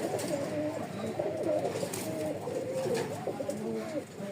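A pigeon coos in a loft among pigeons kept for sale, repeated soft throaty calls rolling one into the next at close range over faint background noise.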